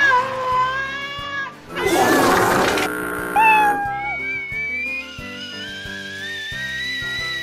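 A cat meows in a few loud, drawn-out cries among whistle-like tones, with a short burst of noisy hiss in between.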